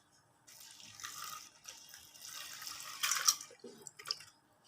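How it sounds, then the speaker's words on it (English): Fresh coconut milk pours into a pot for Indonesian gulai ayam, a soft, intermittent liquid splashing and trickling in a few separate pours, quiet and close with no talking. "Now we're putting the fresh coconut milk."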